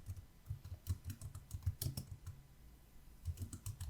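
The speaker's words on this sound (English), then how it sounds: "I'm going to type in celebrating, all in caps" Quiet, close keystrokes on a computer keyboard tap out a quick burst of words, a few brief pauses, then another run of rapid taps; no one speaks.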